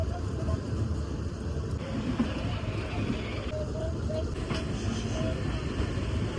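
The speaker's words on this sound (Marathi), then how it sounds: "ट्रेनमधला प्रवास मी थोडा तुम्हाला दाखवेन" Steady rumbling and rattling of a moving train heard from inside a crowded general-class compartment, with people talking over the continuous noise.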